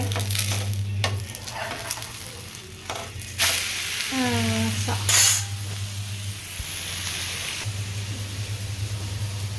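Steady sizzling of rava uttapam batter frying on a buttered hot griddle, with scraping and clinking of a utensil against the pan in brief bursts.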